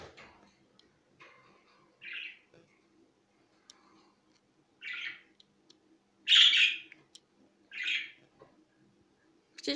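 Indoor pet birds call near a cage, giving about five bright chirping bursts spaced a second or two apart over a quiet room, with faint scattered ticks between them.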